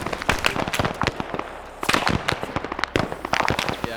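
Grenades explode in the video game SOG Bright Light, a rapid cluster of sharp cracking bursts and pops in quick succession, moderately loud, with no talking.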